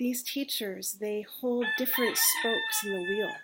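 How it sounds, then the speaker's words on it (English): Roosters crow behind steady speech, one long drawn-out call rising over the talking in the second half. "You're getting to hear the roosters in the background."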